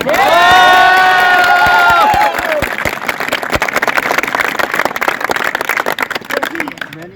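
Cheering and clapping from a crowd at a CRPF training centre retirement ceremony; loud shouts and whoops open the moment, then give way to steady, dense clapping with scattered voices.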